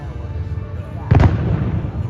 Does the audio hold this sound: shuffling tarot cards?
no